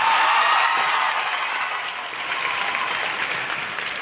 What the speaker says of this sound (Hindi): खाली कुर्सियों के हिस्से की भी तालियां बजा के बताइए कि आपका कितनी ऊर्जा बढ़ा है।